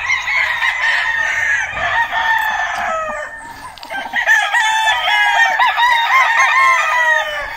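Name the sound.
fighting roosters crowing and clucking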